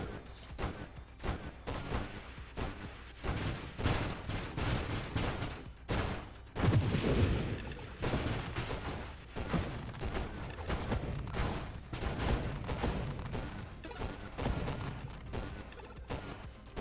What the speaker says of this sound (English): the turrets and stuff can be slightly off screen and then just fire rounds of missiles at you like that